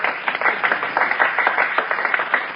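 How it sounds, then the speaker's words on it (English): Scattered applause from people on a sidewalk, a dense patter of many hands clapping steadily for a few seconds in a radio-show scene, moderately loud and continuous with no talk over it. "the people on the sidewalk are applauding"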